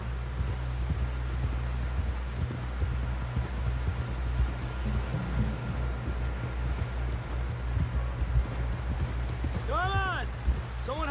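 Horse hooves clatter in a rhythmic gallop in the Red Dead Redemption 2 video game, quick thuds under steady low engine-like game ambience, with a brief voice near the end.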